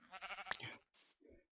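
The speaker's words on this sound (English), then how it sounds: "Come here, sheep. I'm gonna shear you." Sheep bleating in a Minecraft-style video game: a wavering, harmonic bleat comes first, then a short noisy burst and a brief lower call, all close and clear with no talking.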